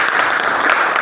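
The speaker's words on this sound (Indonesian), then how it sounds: "Tepuk tangan untuk Tegar" Steady applause from a class of students, a dense patter of clapping filling the whole moment with no voices over it.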